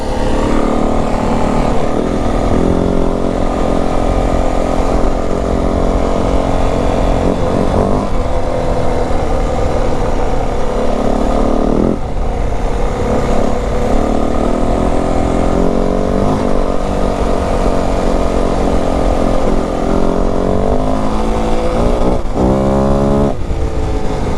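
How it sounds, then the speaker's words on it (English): A 2025 Yamaha WR450F dirt bike engine with an exhaust and airbox restrictor drones steadily and fairly loud, with slight rises and dips in revs throughout and no talking. "not as loud anymore out the exhaust, and even out the airbox, because it's got the restrictor in it"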